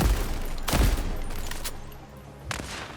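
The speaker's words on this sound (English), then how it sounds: "Say the word and another salvo is on its way." Weapon salvo fire in the sci-fi video game The Expanse: Osiris Reborn, a burst of loud, sharp gunfire blasts with a heavy hit near the start and another around the end, over a constant rumbling backdrop.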